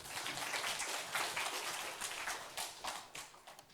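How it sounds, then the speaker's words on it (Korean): A church revival-meeting audience claps together, a dense patter of hands that swells and ebbs for a few seconds with no voices over it. "박수 한번 쳐주세요."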